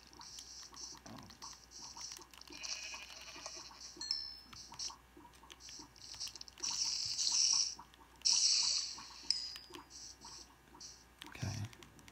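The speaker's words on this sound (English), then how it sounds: "I see another sheep." A sheep in the Minecraft 3DS video game bleats a few short times over faint ambient game sounds and light scratchy footsteps, fairly quiet throughout.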